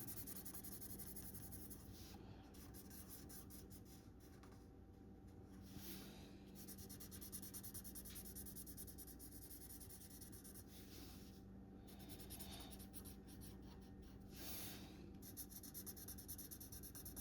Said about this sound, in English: Just let the marker work.